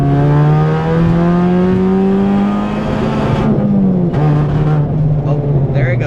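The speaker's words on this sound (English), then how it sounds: "I'm gonna do that little pull where that way you could hear the misfire that I'm talking about" Chevrolet Cobalt SS pulling hard under acceleration, engine note rising steadily, then stumbling and breaking up near the end as a misfire cuts in, loud and close, with people talking over it.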